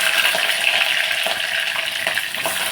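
Green chillies drop into hot oil in a home kitchen pan, making a steady, close frying hiss with faint pops and no talking.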